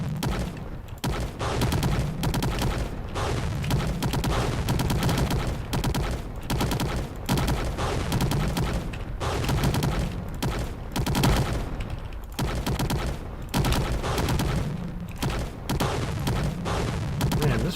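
Heavy machine-gun fire in a self-made video game, long loud sustained bursts broken by brief pauses and repeated across the whole stretch.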